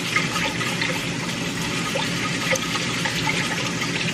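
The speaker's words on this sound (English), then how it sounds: "I wanna get the rice all washed up." Running water splashing steadily, close and fairly loud, with small sloshing and swirling sounds as rice is rinsed underneath; no talking.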